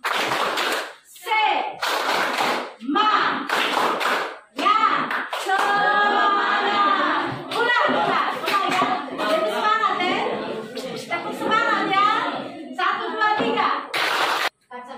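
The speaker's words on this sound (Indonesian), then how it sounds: "Oke, tepuk semangat." Groups of students in a classroom clap a spirit clap in quick rhythmic bursts, alternating with a teacher's voice giving short prompts; the clapping is loud and close.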